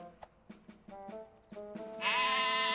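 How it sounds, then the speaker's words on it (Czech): Cartoon sheep bleating in a string of short wavering calls, then a louder sustained bleat at the end, close and clear with no talking. "Sehnali jsme dohromady splašené ovce"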